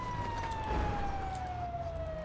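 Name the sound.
fire truck siren in video game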